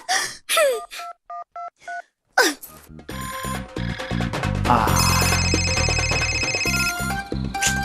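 A run of electronic telephone beeps, then a loud, busy ringing tone that carries on steadily without any voices.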